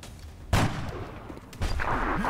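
Two separate loud weapon shots from the turn-based strategy game XCOM with the Long War mod, each a sharp blast with a booming tail, about a second apart over low background sound.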